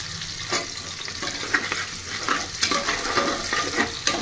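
Onion and green chili frying in a pan make a close, continuous sizzle, with scraping stirs breaking through it every second or so.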